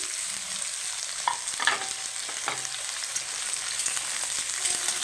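Potatoes and vegetable stalks fry together in a pan, a constant close sizzle with a few sharper clatters and scrapes as pieces are added and moved, no voices.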